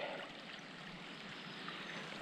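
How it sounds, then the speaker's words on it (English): Clear spring water trickles and flows steadily on a wet hiking trail, a soft, continuous babbling close by with no voices. "I found this nice clear flowing spring as opposed to the brown foamy stuff that was in the big ones."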